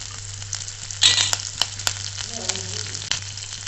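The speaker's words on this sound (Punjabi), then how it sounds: "ਆਪਾਂ ਇੱਕ ਹਰੀ ਮਿਰਚ ਪਾ ਲਈ ਇਹਦੇ ਵਿੱਚ ਕੱਟ ਕੇ" Chopped green chili frying in oil in a pan for halwai-style bread pakoda, a close, steady sizzle with a few sharp crackles and stirring scrapes over a low constant hum, no one speaking.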